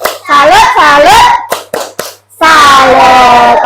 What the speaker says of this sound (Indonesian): kita kasih tepuk salut dulu untuk diri kita sendiri